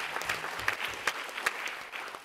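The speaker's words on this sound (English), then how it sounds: "Yes, clap for them." Audience applause at the opening panel of a conference on domestic work and domestic workers: a steady patter of many hands clapping, fairly quiet and distant, with a few sharper claps standing out.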